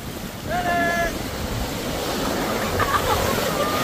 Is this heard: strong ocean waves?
yes